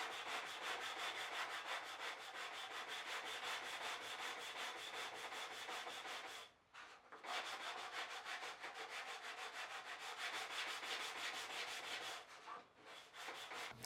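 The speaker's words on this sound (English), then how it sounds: "I'll switch to hand sanding." Hand sanding on an antique wooden tool box being restored, a fast rhythmic rasping of paper on wood in quick back-and-forth strokes, close and steady, with two short pauses between runs of strokes.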